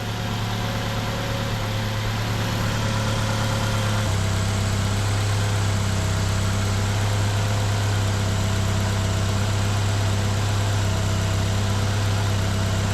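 Car engine idling steadily up close after a repair, a loud continuous low drone with a slight shift in pitch partway through and no talking.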